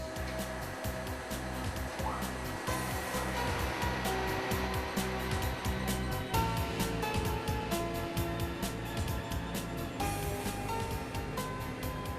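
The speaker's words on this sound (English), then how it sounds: "Then start the pump." A pump runs steadily after start-up on a boiler system, a continuous close motor hum with a rhythmic low pulsing and a slight shift in pitch partway through, alone without talk.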